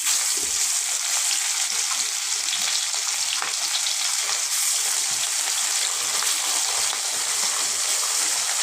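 Mrigal fish pieces rubbed with salt and turmeric frying in hot oil, a loud, continuous close-up sizzle and crackle that holds steady throughout without pause.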